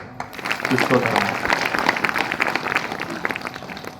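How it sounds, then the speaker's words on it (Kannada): An audience at a Kannada religious discourse breaks into dense, sustained applause that fills the moment, with voices mixed in beneath the clapping. "ಚಪ್ಪಾಳೆ."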